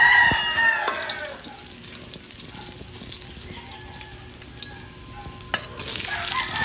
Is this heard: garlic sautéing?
yes